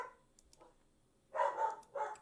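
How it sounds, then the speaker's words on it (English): A pet dog barks nearby in a few sharp yaps, with two louder barks after a faint start and brief quiet gaps. "I know that must be really annoying for you guys, having to hear her bark so much"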